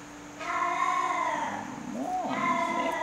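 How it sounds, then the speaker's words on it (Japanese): A cat in heat yowls loudly and close by in long, wavering drawn-out cries, one sustained call followed by a dipping, bending moan and another rising howl. "もう猫ちゃんなんかさ、今発情期かよ。"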